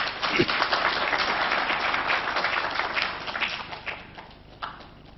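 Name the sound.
audience applause for the caterers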